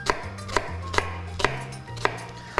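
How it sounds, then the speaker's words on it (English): Knife chopping a small onion on a board for stir fry, five or six distinct, evenly spaced thuds close by, each a crisp tap over a faint background hum. "So I just need to chop up some onion for our stir fry."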